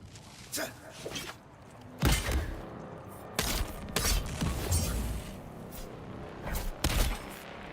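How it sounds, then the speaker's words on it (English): A Gatling gun firing in the desert survival game Dune: Awakening, heard as a run of dense rapid bursts and thumps with short gaps between them, fairly loud, while a voice talks over the action. "It's fucking Gatling gun, guys."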